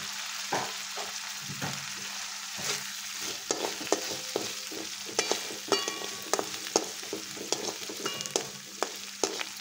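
Onions and garlic sautéing in a pan, a steady sizzle with repeated sharp scrapes and clicks of stirring that come close and fairly loud in irregular bursts, with no talking.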